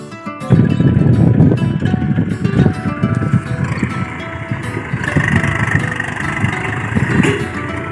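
A tractor engine runs steadily and loud up close, a continuous low mechanical rumble with a throbbing beat that holds through the whole stretch, with no voices over it.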